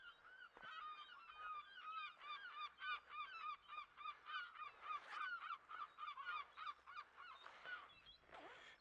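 A noisy goose honks repeatedly close by, a rapid series of harsh calls running steadily through the whole stretch, on a tour of the Isle of Man.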